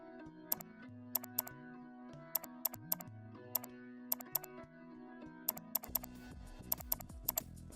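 Sharp, isolated mouse clicks in pattern editor software, single and double clicks in an irregular rhythm over a soft, steady background hum.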